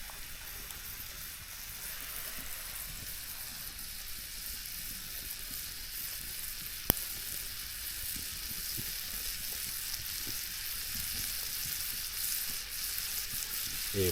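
A steak cooks slowly in a pan outdoors on a cold day, a soft steady hiss and crackle of sizzling throughout, broken by a single sharp click midway, with no voices.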